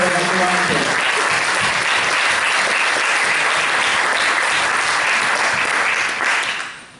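An audience at a Slovenian independence celebration applauds graduating secondary-school students, with loud, sustained clapping from a large crowd that holds steady before fading out at the end.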